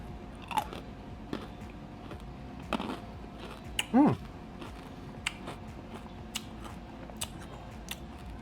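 Biting and crunching freeze-dried Skittles candy close to the microphone, scattered crisp crunches with one louder bite in the middle, quiet between chews and no speech.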